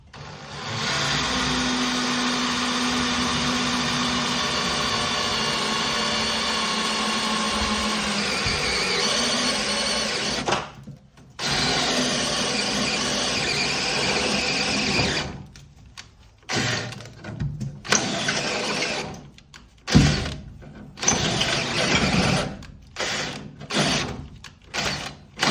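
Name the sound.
step drill bit drilling through truck frame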